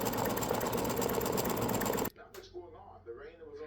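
An embroidery machine stitches free standing lace basketball earrings with a fast, steady mechanical whir for about two seconds, then stops abruptly. A voice talks afterward.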